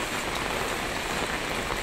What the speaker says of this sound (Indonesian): Kebetulan harinya hujan.